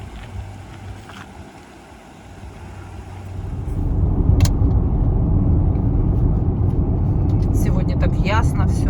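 A car pulls away from Vladivostok, the engine and road rumble rising after about three seconds into a steady, loud drone with wind noise, and brief sharp rattles and squeaks near the end.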